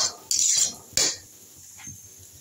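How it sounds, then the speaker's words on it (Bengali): Eggs dropped into a pan of water while making a spicy egg fry, giving two sharp clinks against the pan close by, followed by softer faint knocks. "জল দিয়ে আমি এর মধ্যে এখন ডিমগুলো দিয়ে দেবো।"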